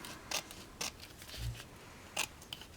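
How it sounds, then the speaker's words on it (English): Scissors trim paper for a handmade purse-style mini album, giving a few separate crisp snips close up, with a soft paper rustle between cuts and no talking. "I will just take my scissors"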